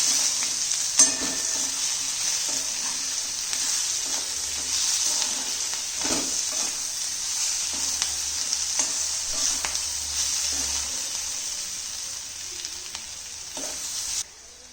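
Softened onion pieces for an onion pickle are stirred in a pan with tamarind and salt, making a constant sizzle with repeated spoon scrapes at a regular pace, close up and with no talking.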